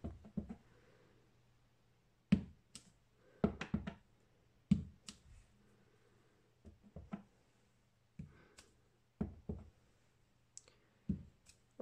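A rubber stamp is pressed onto paper again and again, giving sharp, close, separate taps and clicks at an irregular pace, with quiet pauses between them and a faint low hum underneath.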